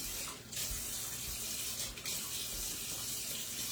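Water runs steadily from a tap, a close, continuous splashing hiss with a couple of brief gushes.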